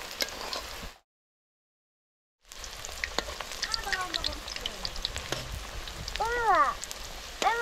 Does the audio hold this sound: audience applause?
no